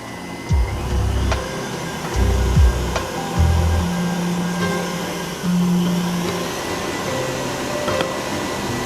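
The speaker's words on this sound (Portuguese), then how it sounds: "A batedeira ela pode estar numa velocidade média alta e bater os ovos na velocidade mais alta" An electric stand mixer beating eggs and sugar for carrot cake batter, a steady motor whir close by with a few shifts in pitch and some knocking against the bowl.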